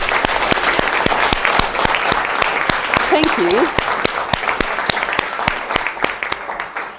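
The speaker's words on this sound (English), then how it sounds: "I think that they deserve a round of applause" A university lecture audience breaks into sustained applause, dense and steady for several seconds, with a brief spoken thank-you from the front partway through as the clapping continues and slowly thins toward the end.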